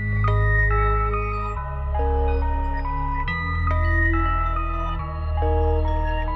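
Dark drill beat sample built in FL Studio: sustained low chords and a higher keys melody shifting every second or two, playing alone at steady loudness with no voices.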